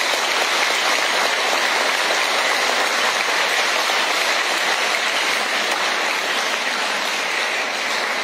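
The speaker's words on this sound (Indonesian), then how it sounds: "Mari kita berikan tepuk tangan" Sustained applause from a crowd at a church parish priest handover ceremony, a dense, steady patter of clapping that stays loud and even throughout with no voices over it.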